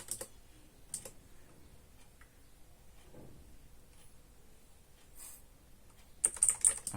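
Typing on a computer keyboard while entering Arch Linux install commands, soft scattered keystrokes under a quiet room hiss, then a louder quick burst of keys at the end.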